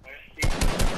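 Gunfire in Fortnite Battle Royale during a one-on-one match, a quiet voice first, then from about halfway several loud, rapid shots landing in clustered bursts.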